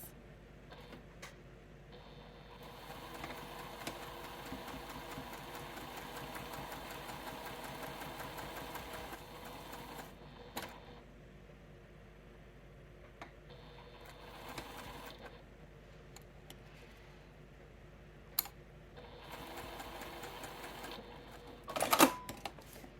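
A sewing machine stitches a small quilted mug rug, running as a steady, fairly faint whir for long stretches with short pauses between runs and a sharper click near the end.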